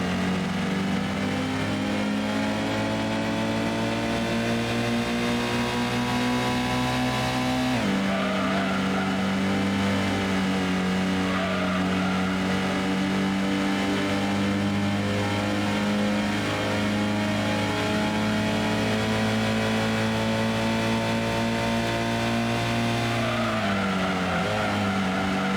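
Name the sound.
race car engines in Gran Turismo video game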